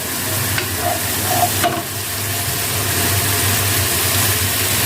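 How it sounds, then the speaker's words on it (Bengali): Spice paste sizzles and fries slowly in a pan for beef khichuri, a steady hissing crackle broken by a few scrapes of stirring, with a low constant hum beneath. "মশলাটা এভাবে আমি আস্তে আস্তে ভেজে নেব"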